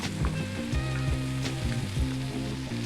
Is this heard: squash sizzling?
yes